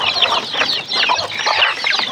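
Chickens feeding cluck close by in a loud, busy stream of overlapping calls with brief dips, and no speech is heard.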